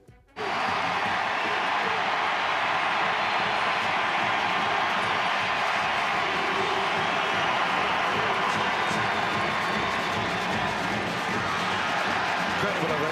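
A stadium crowd gives Nashville SC's Hany Mukhtar a sustained ovation as he enters the pitch in the 75th minute, a loud, dense wall of cheering and applause that starts abruptly and holds steady to the end.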